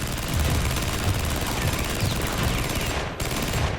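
A light machine gun fires at its maximum rate of about 850 rounds per minute, a loud, dense, continuous burst of rapid shots with a short break near the end.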